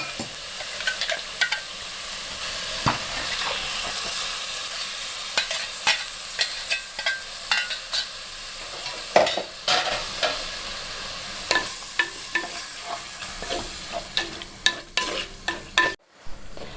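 Fresh coconut masala paste, thinned with a little water, simmers in a pan for a rustic yam (kachil) puzhukku, with a steady close sizzle and frequent scraping, clinking stirs throughout, without any talk.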